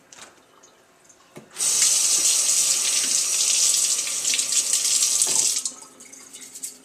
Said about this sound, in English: you want to make sure you rinse out the stuff real well.